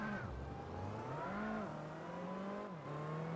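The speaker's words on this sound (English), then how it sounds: "Maybe not the actual revving, but they should make a decent noise." Race car engines rev and whine in rising and falling pitches, a steady synthetic motor drone from the video game Gran Turismo 4, with no talking.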